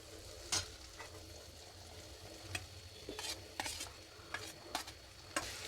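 Ridge gourd stirred into sautéed onion and tomato, a soft sizzle under intermittent scraping and clacks of a spoon against the pan, close and fairly quiet.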